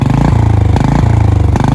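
A Royal Enfield Bullet motorcycle engine fires up and settles into a loud, steady thumping idle, its single-cylinder beat pulsing close by, with no talk over it.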